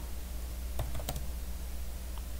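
A short burst of keystrokes on a computer keyboard, a quick cluster of close clicks entering a terminal command on Kali Linux, then quiet room hum.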